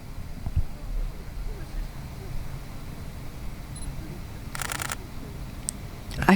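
A camera shutter clicks once partway through, crisp over a quiet ambient hum, with a faint second click near the end.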